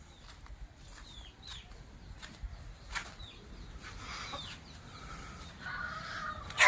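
Several native country chickens cluck and squawk intermittently at close range in a poultry shed, with scattered calls over a low, busy background.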